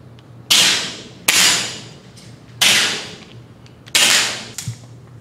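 Rifles firing single shots at an outdoor rifle range during summer camp, four loud, sharp cracks spaced about a second apart, each trailing off with a short echo and followed by a fainter clack.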